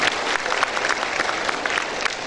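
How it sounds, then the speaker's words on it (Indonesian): Graduation audience at a polytechnic ceremony applauding steadily, a dense, loud wash of clapping from a large crowd that holds evenly throughout with no pauses. "Tepuk tangan ibu bapaknya semuanya."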